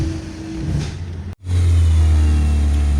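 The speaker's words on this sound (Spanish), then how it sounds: "Estoy acelerando." A Toyota Corolla engine with a power loss fault idles, cuts out briefly, then revs up loud and steady, a sustained close-up roar.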